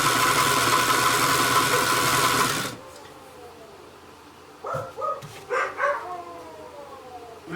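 Small dogs howl in short, rising bursts after a nearby sewing machine stops abruptly, the several wavering cries coming from a room away and fairly faint.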